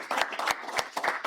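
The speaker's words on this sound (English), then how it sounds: "Let's give them a round of applause." A small group claps in brief, loose bursts of a few hand claps each, close and moderately loud, with no talking.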